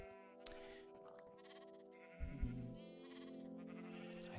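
A sheep bleats in a farming video game, a couple of wavering bleats over steady game background music, fairly close and clear with no talk.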